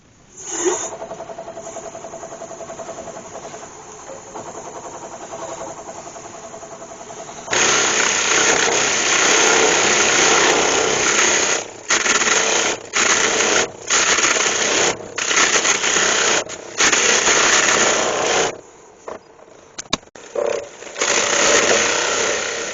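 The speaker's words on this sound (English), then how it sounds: "as that's spinning, I believe you should be able to see the tip of the tool actually cutting the wood." A wood lathe spins a beech crotch hollow form while a turning tool cuts, first a steady motor hum, then loud continuous rough cutting noise broken by brief pauses as the tool lifts away.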